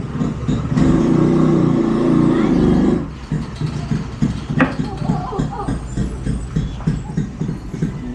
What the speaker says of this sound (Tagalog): Maingay talaga ang motor dito pero malalakas.